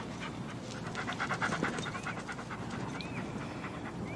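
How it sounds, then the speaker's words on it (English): A dog pants quickly and steadily at close range, the breathing soft and continuous, with a few faint high chirps in the background. "Good doggy."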